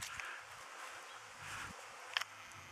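Honeybees on their first spring cleansing flight over an apiary, a faint, diffuse buzzing hum of many insects heard at a distance, with a brief closer sound near the end.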